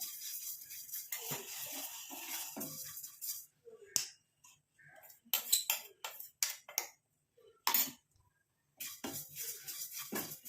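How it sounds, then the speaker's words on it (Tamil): Fenugreek and curry leaves dry roast in a pan, heard as quiet, scattered scraping and clicking bursts of a spatula stirring, separated by short silent gaps. "இப்போ இது 2த்தையும் நல்லா வந்து வறுத்துக்கலாம். நல்லா பிளாக்காக சேஞ்ச் ஆகிற மாதிரி இதை வறுத்து எடுத்துக்கணும்."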